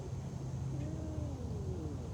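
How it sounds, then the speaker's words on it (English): A three-legged serval at Big Cat Rescue calls with a faint, drawn-out meowing cry that rises and falls across a steady background hum, heard alone without talk. "I think you're the most understated chatty cat on the whole property."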